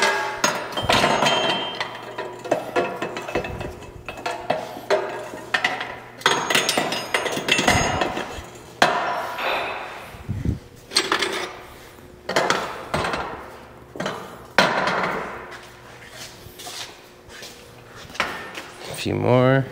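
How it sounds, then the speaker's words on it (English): Body hammers being loaded onto a metal shaping station rack: a string of irregular metallic clanks and knocks, close and fairly sharp, with a person talking now and then between them. "Let's load it with the body hammers and see where it's at."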